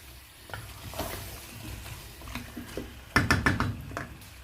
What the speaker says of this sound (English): I'll give it another mix, another turning.